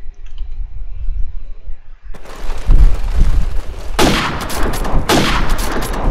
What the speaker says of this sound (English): A little wallbang going on there from Deston.